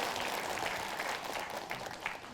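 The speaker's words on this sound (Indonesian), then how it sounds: "Tepuk tangan" An audience at a religious study gathering claps together, a dense, continuous burst of applause filling the room for a couple of seconds.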